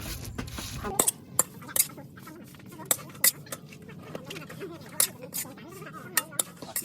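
Fish meat stir-frying in oil in a pan after roasted ground rice for northern Thai larb, with sharp clinks and scrapes of a utensil against the pan over a low sizzle, and people talking nearby.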